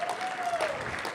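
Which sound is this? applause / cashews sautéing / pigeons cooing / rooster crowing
applause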